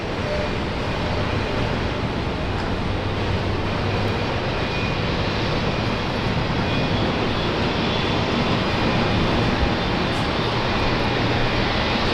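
An airliner landing at Brisbane International Airport makes a loud, continuous broadband engine roar that stays steady and close throughout, with no voices.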